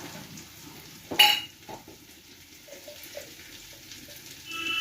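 Ground coriander and cumin frying in a pan, a quiet sizzle with a sharp utensil clatter on the pan near the start and faint stirring scrapes after, close and without talk.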